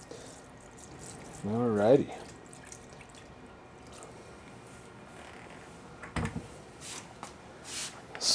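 Liquid poured into oil absorbent inside a containment tray gives soft, intermittent trickling and dripping, with a brief voice and a few sharper spatters late on.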